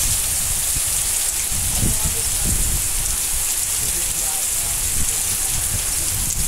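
Steady rain pours down across the whole stretch, a dense hiss with scattered low patters of drops striking a surface nearby.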